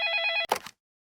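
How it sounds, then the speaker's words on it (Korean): An office extension telephone bell rings loudly in a rapid metallic trill for under half a second, then a short clatter follows before silence. "그때 전화벨이 울렸다"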